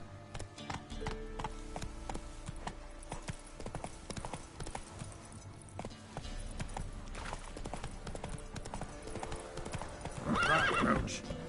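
Roach, the horse in The Witcher 3: Wild Hunt, gallops in steady rapid clip-clop hoofbeats with a whinny near the end, loud and close over game ambience, with a voice urging the horse on.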